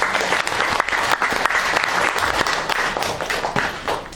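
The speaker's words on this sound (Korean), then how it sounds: "여러분 활기찬 박수로 환영해 주시면 대단히 고맙겠습니다." An audience at a Korean poetry recital event claps steadily to welcome a guest speaker. The dense, lively applause runs on its own for about four seconds without fading.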